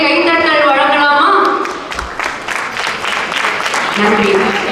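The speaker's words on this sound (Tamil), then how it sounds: "இப்பொழுது நாம் பார்த்த நிலை 6 மாணவர்களின் அசத்தலான நிகழ்ச்சிக்கு இன்னொரு பெரிய கைத்தட்டல் வழங்கலாமா?" An audience at a school annual day gives a big round of applause for a student performance, loud dense clapping at first that thins slightly midway and swells again, with a voice speaking over part of it.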